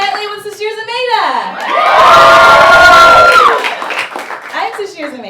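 Studio audience of a late-night talk show cheers and applauds the host loudly for a couple of seconds, a swelling crowd roar between stretches of her speaking voice.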